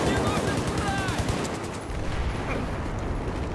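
Battlefield 4 gunfire in close-quarters Operation Locker conquest, a dense continuous wash of overlapping shots and battle noise throughout, loud and busy.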